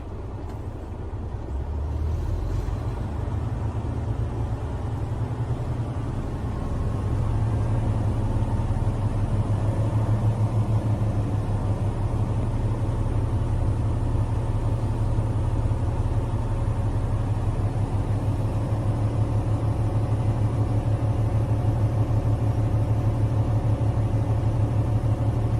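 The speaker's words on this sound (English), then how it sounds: "We're going to rev 12 to 1400 RPMs till the governor cuts out." A truck engine revs and holds around 1200 to 1400 RPM during an air brake test while the compressor builds pressure until the governor cuts out; a steady, loud low rumble that swells after a few seconds and stays constant.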